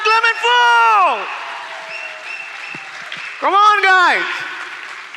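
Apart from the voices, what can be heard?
audience applause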